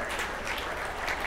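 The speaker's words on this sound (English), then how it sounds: "Big round of applause" An audience gives a round of applause, heard as a continuous wash of clapping at moderate volume with no voices over it.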